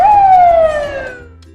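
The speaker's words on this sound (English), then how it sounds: "fire truck" Fire truck siren, a single loud wail whose pitch sweeps downward and fades within about a second.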